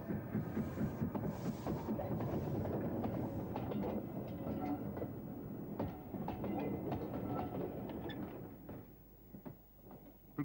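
A Midland Railway Jinty steam locomotive pulls away eastbound from Swanage Junction; rolling train noise with rhythmic wheel clatter and clanks over the rails, fairly loud, easing off toward the end.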